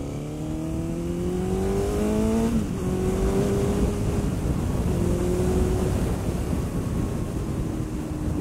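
A Honda CBR1000RR sport motorcycle engine revs up with rising pitch, dips briefly as it shifts, then climbs again, loud and close throughout.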